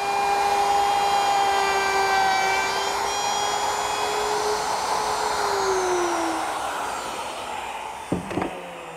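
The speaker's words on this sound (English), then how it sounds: "I'm using the same collar on the router, but I've switched to a 1/2 inch straight cutting bit" Router fitted with a 1/2 inch straight cutting bit routing wood for a nest of drawers: a loud, steady high motor whine and cutting hiss that slowly drops in pitch as the bit bites into the wood.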